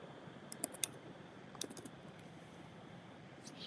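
Someone types briefly on a computer keyboard. A few quick, light key clicks come in two small bursts against a quiet room hiss, with no voices.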